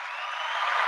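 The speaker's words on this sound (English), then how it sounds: "There's the applause." Steady applause from an audience at a live gig, a continuous wash of clapping that swells slightly louder toward the end, with no speech over it.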